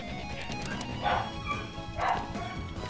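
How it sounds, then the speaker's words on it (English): Dogs barking at midnight, two separate bark bursts about a second apart, moderately distant, over a low background murmur. "Shut up, dogs, you fucking idiots! It's fucking midnight, shut up!"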